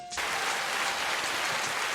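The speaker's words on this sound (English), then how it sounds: "I'm gonna hit the round of applause early." A burst of crowd applause sound effect cuts in abruptly and continues as a dense, steady wash of clapping, loud and unbroken, with no voices over it.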